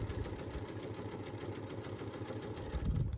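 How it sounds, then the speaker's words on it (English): A sewing machine stitches down a quilt binding seam, a steady fast mechanical whirr with rhythmic needle chatter running continuously and close. "So we stitch down this entire seam"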